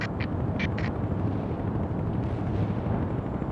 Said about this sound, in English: You have incoming artillery again, Romanov. Move your units out of the impact area.